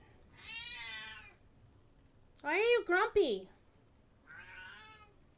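A grumpy cat gives a quick run of loud, close, drawn-out meows between stretches of a person talking.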